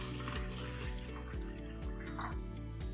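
Electrolyzed reduced water pours from a container in a soft, gurgling stream with a rhythmic glugging pulse, quiet and close, with a faint voice in the background.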